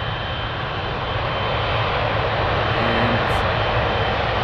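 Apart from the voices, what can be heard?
Boeing 777 airliner landing on runway 25R at Frankfurt Airport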